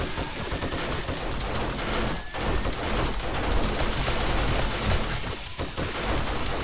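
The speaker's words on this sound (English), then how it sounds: "Shotgun turrets are doing some good damage over here." Shotgun turrets firing in the game 7 Days to Die, a dense, continuous barrage of rapid gunfire blasts, loud and sustained throughout.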